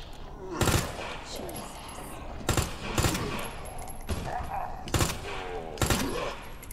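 Gunfire in a Resident Evil 2 Remake game session, sharp loud shots arriving in irregular bursts about a second apart over a low background hum, with no talking over it.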